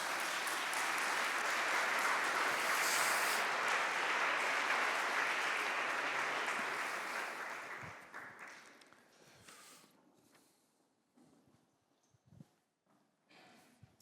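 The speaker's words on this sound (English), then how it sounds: "Please give them a massive round of applause and welcome them up to the stage" A conference audience applauds as a climate security panel is welcomed to the stage, a broad sustained wash of clapping that tapers off after about seven seconds, leaving faint shuffling and scattered claps.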